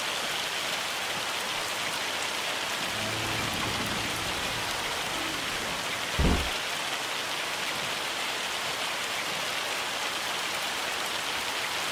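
Steady hail and rain pelting a roof during a hailstorm in Farming Simulator 25, a dense even drumming heard from indoors, with one brief louder knock midway.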